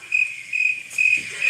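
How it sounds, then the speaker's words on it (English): Crickets chirp in short, shrill trilling bursts that pulse on and off against a quiet background, with no voices. "Yeah, crickets."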